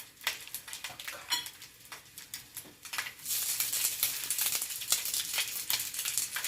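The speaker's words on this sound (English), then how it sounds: "Look at all that nice sizzling." Japanese rice balls fry in a pot with a bright, crackling sizzle that swells after a few seconds, broken by occasional utensil scrapes and clinks, close and moderately loud without talk.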